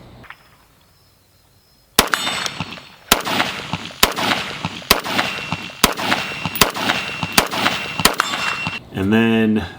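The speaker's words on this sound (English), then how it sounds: "I ran a function test and I did not have a suppressor on" About eight loud, sharp unsuppressed rifle shots ring out at an irregular pace during a function test, following a quiet pause, with echoing tails between them and a brief different noise at the very end.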